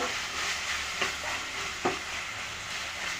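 Capsicum and onion masala sautéing in a pan for an egg capsicum fry, a steady soft sizzle with a couple of brief stirring scrapes, close and moderately quiet.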